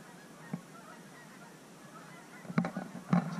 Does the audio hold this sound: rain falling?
no